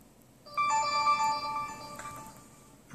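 A GSM mobile phone plays its incoming-SMS alert, a short bright electronic ringtone of layered tones lasting about a second and a half, clear and close against a quiet background.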